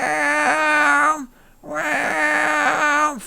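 A human voice imitates a cat with two long, nasal, metallic meows, each sliding and wavering in pitch, loud and close with a brief breath-like gap between them.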